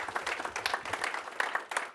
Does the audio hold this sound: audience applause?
yes